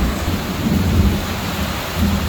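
Thunderstorm rolling in over the ocean, with steady heavy rain and deep rumbling thunder swelling and fading throughout, loud and close with no voices.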